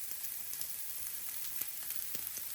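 Garlic fries in a pan over medium heat, giving a soft, steady sizzle with faint crackles throughout, low and close, with no voices.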